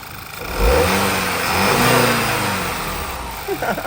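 A car engine fitted with an aftermarket PCV valve is revved under throttle. Its pitch swells up close, holds, then sags back toward a rough idle over a few seconds.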